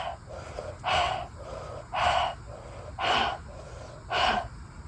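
Deep, loud rhythmic breaths taken during a conscious connected breathwork exercise, four strong whooshing inhale-exhale surges about a second apart, close and steady with no talking.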